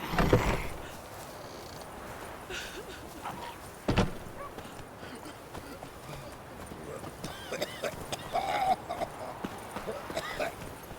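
Horse hooves clip-clop in the video game Witcher 3 on Xbox. A soft, steady trotting patter sits under game ambience with a brief thump, and a voice is heard.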